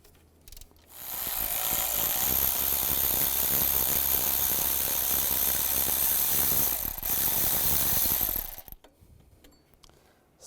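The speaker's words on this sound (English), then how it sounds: "use a 15mm socket, take this bolt out" A ratchet fitted with a 15mm socket works a bolt loose on a Chevy Trailblazer engine during timing chain work, a rapid steady clicking burst lasting several seconds, close and alone, then stopping.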